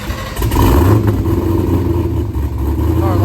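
A procharged LS V8 in a 1987 Mazda RX-7 FC runs loud and close, a steady rumbling idle with slight rises in revs and some mechanical clatter.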